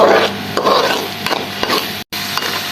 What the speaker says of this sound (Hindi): ये हम इसमें ऐड कर देंगे और इसको भी टमाटर के पेस्ट के साथ अच्छे तरीके से पका लेंगे